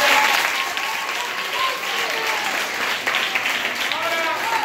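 Schoolchildren applaud during a school visit, a loud continuous crackle of many small hands clapping, with children's voices and shouts rising through it from start to finish.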